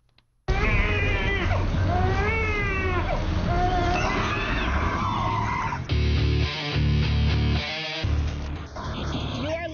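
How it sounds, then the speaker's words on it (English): A stroller on a New York street emits eerie, warbling baby-like cries from a horror film marketing stunt for Devil's Due, loud and wavering, with street noise and voices in the background. "Passersby in New York had their attention grabbed by the sounds of a baby in a stroller"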